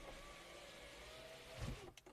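Power windows of a Chevrolet Onix or Tracker closing by remote with the engine running: a faint, steady electric motor whine for about two seconds, ending in a soft thump as the glass seats.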